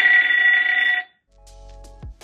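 A loud, shrill electronic alarm tone from a Moshi voice-controlled alarm clock holds for about a second, then stops, followed by faint beeps and a low hum.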